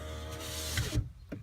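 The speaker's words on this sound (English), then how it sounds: "There goes the window up." A 1999–2004 Honda Odyssey power window with a replaced regulator runs upward, a steady close motor whine that ends with a soft thud as the glass seats.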